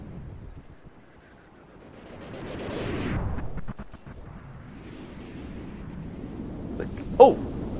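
A cannon on a battlecruiser firing in the video game From the Depths, with booming, rumbling blasts swelling and fading and a sharp crack near the end, heard amid other game noise.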